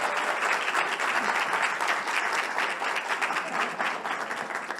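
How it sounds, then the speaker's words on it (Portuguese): An audience at a business conference talk applauds a speaker named Tony: dense, steady clapping from many hands fills the whole stretch at an even, loud level, with no voices standing out. "Palmas para o Tony, por favor, pessoal."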